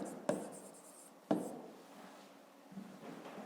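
Pen writing on paper during a fifth-grade maths exercise, heard as a few quiet scratching strokes with two sharper taps as the pen touches down, close and alone with no talk.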